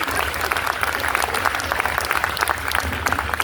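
Dense, steady clapping from a live audience at a stage poetry and song performance, loud and continuous without a break.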